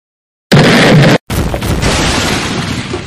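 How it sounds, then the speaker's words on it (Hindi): A loud explosion at a police headquarters building in an animated film bursts suddenly out of silence, a heavy boom that drops briefly then rolls into a rumbling, crackling aftermath. "अभी एक धमाके की आवाज से पुलिस हेडक्वार्टर्स की इमारत थर्रा उठी।"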